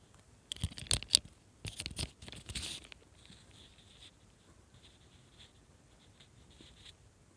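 A pen writes an exam answer on paper in a series of quick scratchy strokes, with a busy burst early on and softer, fainter scribbling after, close up and quiet with no talk.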